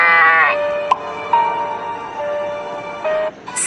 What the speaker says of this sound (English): Did you know no two sheep sound exactly the same?